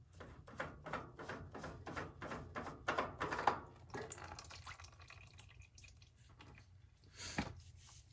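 Old engine oil draining from a Cub Cadet 2146 lawn tractor after three years of sitting, faint soft wet drips and a trickle in a loose rhythm, quiet and close, fading toward the end.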